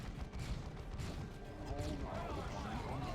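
Nemesis Vortex exploding in the strategy video game Dawn of War 2, a rumbling, crackling blast of booms and battle noise that churns on for several seconds, with someone commentating over it.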